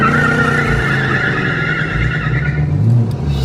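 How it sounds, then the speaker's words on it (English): A car's tires spin and squeal as they warm up, with an engine roaring close by. The screech is loud and continuous, and the engine note rises and falls under it. "Shoot, son, he's warming up them tires"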